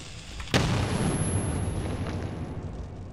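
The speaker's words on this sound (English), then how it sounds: "Chuck a grenade." In the video game Metro 2033, a grenade detonates with a sharp, loud boom that settles into a long rumbling decay and a lingering high ringing.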